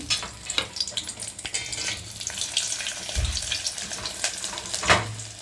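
Shallots and dried red chillies frying in about two spoons of hot oil for a tempering, a crackling sizzle with uneven pops and bursts.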